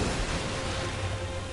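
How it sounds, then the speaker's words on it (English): Heavy pouring rain falling across a boss arena in the video game Elden Ring, a steady dense hiss with a low rumbling undertone that holds evenly throughout, with no talking. "it's pouring rain."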